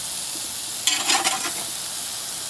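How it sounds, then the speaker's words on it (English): Pork burgers sizzling in a hot pan, a steady hiss throughout with a brief louder burst of spatter and scraping as the patties are flipped. "these pork burgers have been cooking for about 7-8 minutes. We're going to go ahead and give them a little flip."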